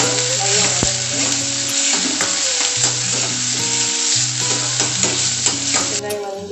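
Garlic and onions sauté loudly and continuously in a pan, a dense close sizzle punctuated by stirring clicks, with a melody playing faintly underneath.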